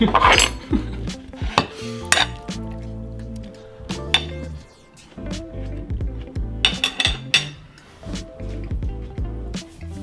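A knife and fork scrape and clink against a plate while cutting vegan stuffed peppers, irregular metallic taps and scrapes close up, with brief pauses between cuts.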